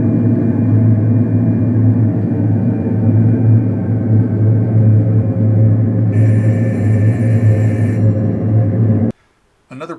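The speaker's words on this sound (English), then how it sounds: "This is the sound of a battleship's engine room." A battleship's engine room fills the space with a loud, steady low machinery rumble and drone that holds for nine seconds before cutting off abruptly.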